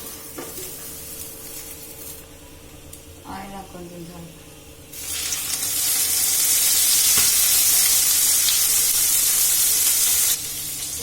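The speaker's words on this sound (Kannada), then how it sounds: "ಸ್ವಲ್ಪ ಫ್ರೈ ಮಾಡ್ತೀನಿ" Ground sambar masala with okra frying in a pan, starting with faint stirring and then rising into a loud, steady sizzle that cuts off near the end, with someone talking throughout.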